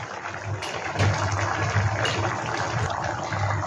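Dal with butter bubbling in a pot on the stove, a steady close simmering and gurgling texture that holds at an even level throughout, with no voices.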